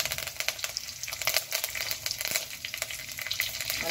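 Whole spices including dried red chillies, cinnamon, cloves, bay leaves and fresh curry leaves sizzling in hot oil for ragda, a steady dense crackle with small pops, close and moderately loud, no talking.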